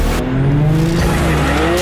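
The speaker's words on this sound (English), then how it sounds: "it revs up, dumps the clutch, and does a burnout." A BMW M4 GTS engine roars at high revs as tires squeal loudly in a sustained burnout, close and intense.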